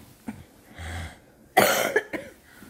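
A person coughs a few times close up, short harsh bursts separated by pauses, the last cough loudest.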